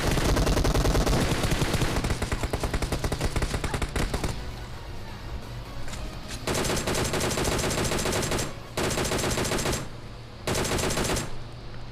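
Gunfire in the mobile game PUBG Mobile, with rapid automatic bursts blazing loudly at first, then repeated sustained volleys separated by short pauses.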